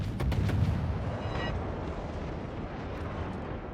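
Naval gunfire in the World of Warships game, fired by a tier 10 Atago-class cruiser: a burst of booming shots with sharp cracks in the first second, then a dense, rumbling wash of battle noise that slowly fades.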